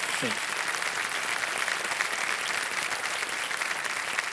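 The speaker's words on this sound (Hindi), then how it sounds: "तालियों के साथ इनका हम अभिनंदन करें" A KBC studio audience applauds a returning contestant, a dense, steady wash of clapping filling the whole stretch at even loudness, with a brief voice at the very start.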